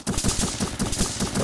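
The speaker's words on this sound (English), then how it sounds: "we're in a gunfight right now" Rapid gunfire in a Roblox video game gunfight, a steady burst of about eight evenly spaced shots in quick succession, loud and close.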